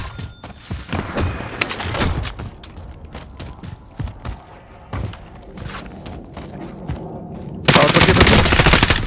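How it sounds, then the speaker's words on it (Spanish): Enemy gunfire in the video game Modern Warfare: loud bursts of rapid automatic shots mixed with single cracks and thuds, ending in a sustained harsh blast of fire, with short bits of talk between. "Me dispara otro del lado izquierdo."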